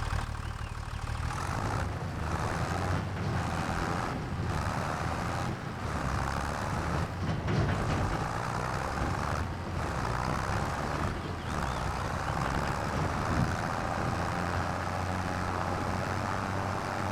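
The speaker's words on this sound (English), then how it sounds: "I think this tractor is really struggling." Tractor engine in Farming Simulator 25 laboring under load, a continuous loud drone with steady low rumble and periodic brief dips, no talk over it.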